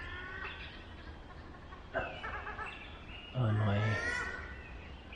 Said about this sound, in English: You can hear him. It's the wood duck, not the Pacific duck.